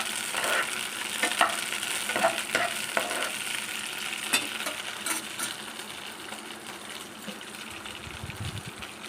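Twelve or thirteen green chillies fry in hot oil in a pan for a mint and tomato chutney, sending up a continuous bright sizzle broken by crackles and pops, loud at first and easing off slightly toward the end.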